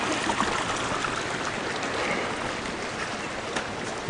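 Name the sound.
creek flowing water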